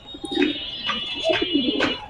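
Several pigeons coo over one another at close range, repeated soft throaty calls over a faint steady background hum.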